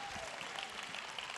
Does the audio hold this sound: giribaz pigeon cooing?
no